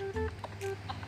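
Chickens cluck in a short burst of close, choppy calls from the blocky game Mini World, over a steady low game hum with no speech.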